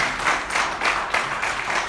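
A church congregation applauds during a sermon, with steady, fairly loud clapping that swells in rhythmic bursts about every half second, with no voices over it.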